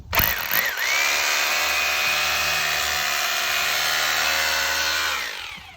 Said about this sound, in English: we need to drill some holes in the batten